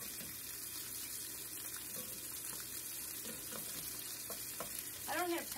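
A Black Angus chuck steak sizzles in a pan, a soft continuous hiss and crackle with scattered pops and a brief clatter of utensils toward the end, no speech.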